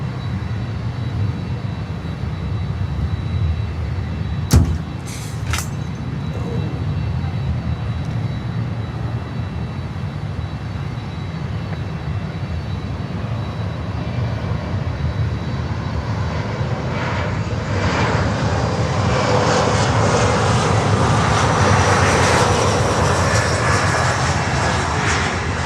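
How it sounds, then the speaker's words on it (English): An American Airlines Embraer 175 jet arrives at Miami airport, its engine roar rising gradually from a distant rumble to a loud, sustained whine as it nears. A couple of sharp knocks sound early on, and no one speaks. "Next inbound, Embraer 175, American Airlines from Pensacola,"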